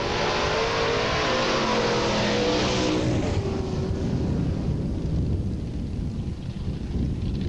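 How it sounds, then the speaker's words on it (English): A 1969 Mustang with a 4-speed manual launches at a drag strip, its engine roaring loud and steady as it pulls away into a fading, rumbling drone with a broad wash of crowd and track noise. "Little Mustang has a 4-speed, so you should hear some good gear shifting."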